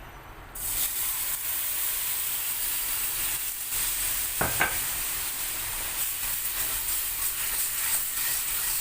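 Fried spam in a pan meets a splash of added water, erupting into a loud, steady sizzle and hiss that holds throughout, with a brief clatter of stirring midway.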